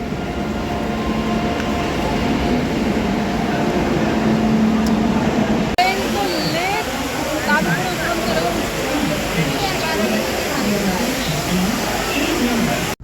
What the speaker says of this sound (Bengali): আর এখন আমরা আছি দিল্লি স্টেশন।